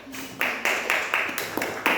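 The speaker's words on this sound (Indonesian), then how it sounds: "Tepuk tangan untuk kelompok 3." A brief burst of rhythmic clapping in a classroom, with a handful of quick, regular claps like a small group of students applauding together, close and fairly loud.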